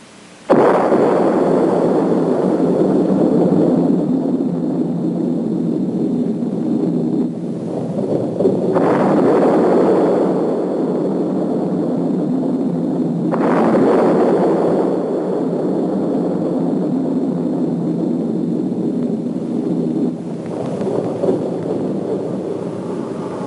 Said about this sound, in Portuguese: A primeira explosão atômica chocou o mundo